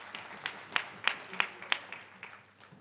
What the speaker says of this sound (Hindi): उनका स्वागत तालियों के साथ।